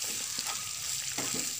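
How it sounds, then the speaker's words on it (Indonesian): Red base spice paste being stirred in a frying pan, with a bright, steady sizzle of frying and a few soft scraping strokes of the stirring utensil close up, with no voices. "Kita aduk."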